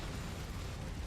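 A fuel tank blowing up in the mech combat game MechWarrior 5, a loud, sustained explosive roar with deep rumbling bass that fills the whole moment without any voices.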